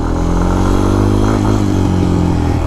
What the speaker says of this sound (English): So if I'm in first gear, you hear it's revving out, and going to second, pop it, pull it in, shift it up to second.